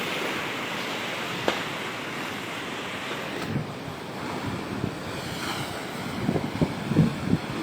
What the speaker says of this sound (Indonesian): Karena seperti yang Anda lihat saat ini gulungan ombak cukup tinggi